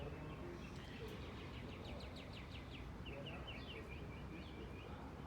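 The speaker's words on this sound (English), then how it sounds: "I hope you hear the birds." Small birds chirp and tweet in short repeated bursts outdoors near a fence, moderately faint against a steady broadband background hiss.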